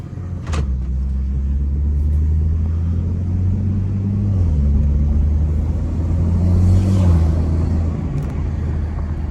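2019 BMW 440i on KW V2 coilovers accelerating from inside the cabin, a deep engine drone rising and falling through gear changes, steady and close with no talk.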